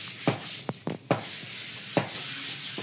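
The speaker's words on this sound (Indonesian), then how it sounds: "Selain itu ada juga proses amplas." Sandpaper scrubbing a freshly skim-coated plastered wall inside a mosque under construction, giving repeated short rasping strokes of uneven rhythm, close and fairly faint, with no talk.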